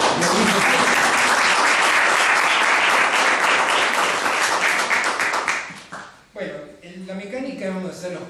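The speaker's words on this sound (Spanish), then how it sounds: "Pueden aplaudirlos." An audience at a playwrights' gathering gives a loud, dense round of applause lasting several seconds before it fades out and a voice begins talking.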